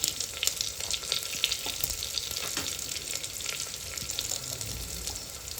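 Small quartered onions with a tablespoon of salt fry and sizzle steadily in a pan, a continuous close crackle with occasional stirring scrapes throughout.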